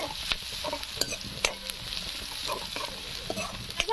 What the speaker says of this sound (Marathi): तर आता याच्यामध्ये मी कांदा टाकून घेते